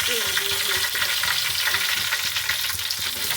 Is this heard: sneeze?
no